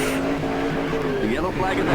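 In the NR2003 game's 1972 Daytona 500, a stock car spins out with a sharp squeal of tires sliding and wavering over the roaring engines of the pack, all close and loud.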